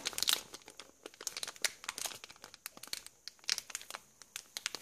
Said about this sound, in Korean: 일단 뜯어볼게요.